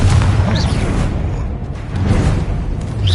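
Explosive Confringo spell blast in Hogwarts Legacy combat, a loud, dense boom with low rumbling bursts that swell and recur across the moment, with no talk.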